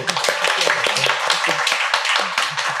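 Clapping from the audience at the close of a talk event, a brief burst of handclaps mixed with voices talking over it.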